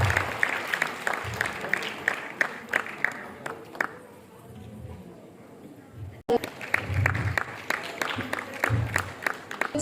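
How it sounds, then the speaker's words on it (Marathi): Parents and guests at a school annual day function clap in scattered, uneven bursts. The sharp hand claps come and go, thin out partway through, then pick up again, with voices murmuring underneath. "छान टाळ्या वाजवायच्या सगळ्यांनी"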